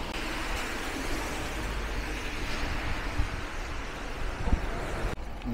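Wind and rain lash the seaside at Świnoujście in a steady, broadband roar with gusting wind buffeting the microphone, continuous and fairly loud throughout, with a brief dip near the end.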